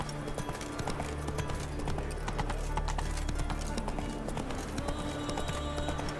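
Horse hooves clip-clopping in The Witcher 3, a steady rhythmic trot of many hoofbeats over a busy game soundscape with ambient background tones, moderately loud throughout with no pause.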